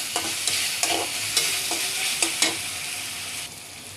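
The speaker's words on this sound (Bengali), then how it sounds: "আমি এই পর্যায়ে আদা রসুনটা একটু ভালো করে ভেজে নেব" Ginger and garlic fry in a pan with a steady hiss of sizzling oil, punctuated by several sharp clinks and scrapes of a spatula stirring at an irregular pace.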